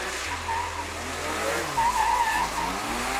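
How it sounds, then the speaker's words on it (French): Porsche Carrera drifting at a driving event, engine roar under a sustained wavering tire squeal, loud and close, with the engine note dropping partway through. "le drift en Porsche Carrera proposé par la société Driving Events"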